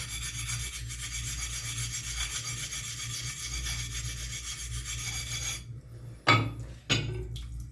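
A knife edge is rubbed on a Belgian blue whetstone held nearly flat, a continuous close gritty rasp of back-and-forth strokes that stops abruptly, followed by a couple of brief knocks.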